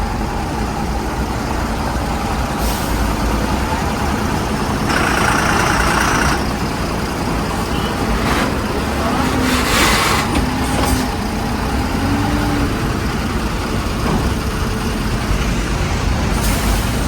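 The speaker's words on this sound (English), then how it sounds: "Our trucks are moving" Trucks roll along a road in a steady, loud traffic rumble, with engines droning throughout and brief hissing bursts like air brakes, and no talk.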